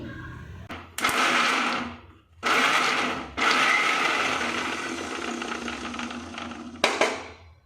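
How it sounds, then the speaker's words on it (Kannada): Kitchen mixer grinder coarsely grinding soaked black-eyed peas in short bursts, a loud whirring buzz that starts and stops several times with brief pauses between runs, close and alone without talk. "ಇವಾಗ ನಾನು ಅಲಸಂದಿ ಕಾಳನ್ನು ಅದೇ ಮಿಕ್ಸಿಯಲ್ಲಿ ತರಿ ತರಿಯಾಗಿ ರುಬ್ಕೊಳ್ತಾ ಇದ್ದೀನಿ"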